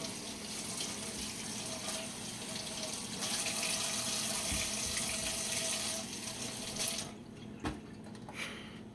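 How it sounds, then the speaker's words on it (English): Tap water runs steadily into a kitchen sink as fresh produce is washed, a continuous splashing stream that stops near the end, leaving a few faint drips and clatters. "now we're going to wash and dry the fresh produce."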